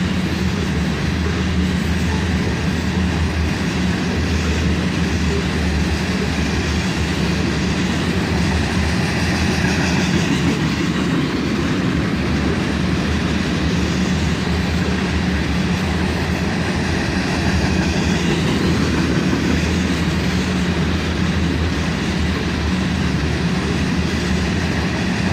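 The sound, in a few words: autorack freight train coming out of the siding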